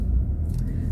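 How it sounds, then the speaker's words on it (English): The refrigeration unit on a refrigerated truck rumbles steadily as it kicks on, a close, low, continuous drone. "There go my fridge kicking in."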